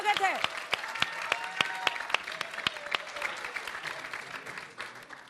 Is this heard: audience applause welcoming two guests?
yes